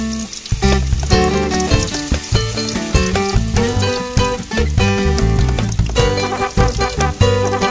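Food fries in a pan with a steady crackling sizzle. Sharper pops and stirring clatter break through at intervals.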